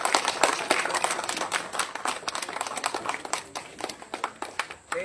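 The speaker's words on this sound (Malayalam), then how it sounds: "എല്ലാവരും നല്ല കൈയടി കൊടുക്കണേ" An audience at a Congress ward committee family gathering applauds, a dense burst of many hands clapping loudly and steadily for the full stretch, with no talking.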